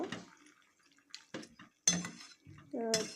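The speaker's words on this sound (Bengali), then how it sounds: "এখন আস্তে আস্তে নাড়াচাড়া করতে হবে, যেহেতু এক কড়ার মতন মাংস।" Goat meat is stirred in a pot on a gas stove, giving scattered metallic clinks and scrapes separated by quiet gaps. A brief voice sounds near the end.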